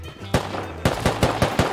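Gunfire in the survival game Rust: a sharp close shot, a pause, then a quick string of loud evenly spaced reports cracking out one after another.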